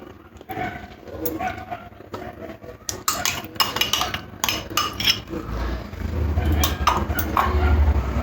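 Five hundred grams of yogurt is handled in a washed clay pot for gondhoraj ghol, with repeated clinks and scrapes of a utensil against the pot at moderate loudness and little talk.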